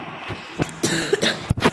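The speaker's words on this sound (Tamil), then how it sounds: "இது வேற இந்த இருமல் வேற வந்துச்சு" A person coughs several times in quick, uneven bursts, close to the microphone and fairly loud, with short gaps between the harsh expulsions.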